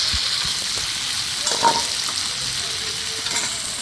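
Prawns sizzle steadily in hot oil in a frying pan, a constant close hiss broken by faint scrapes as the pan is stirred, with no talk.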